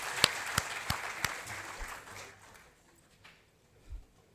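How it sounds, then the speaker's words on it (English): Applause for the distinguished guests and panel at a tech accelerator event, a few loud, sharp claps up close over softer audience clapping that tapers off into near quiet, followed by a dull thump. "I'd request all of you for a round of applause for all our distinguished guests and the panel that"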